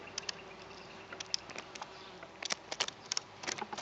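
Bees buzz faintly around a beehive, individual insects passing close in brief, sharp bursts that grow more frequent toward the end over a quiet background hum.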